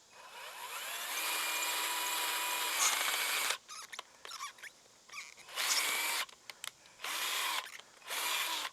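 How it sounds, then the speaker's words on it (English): A cheap Harbor Freight power drill bores a hole, its high whine running steadily for a few seconds and then cutting in and out in short bursts and longer pulls, close and fairly loud. "the world's crappiest Harbor Freight drill. I thought I had to drill one hole, I'd be okay."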